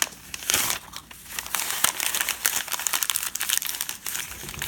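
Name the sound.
paper being wrapped and crumpled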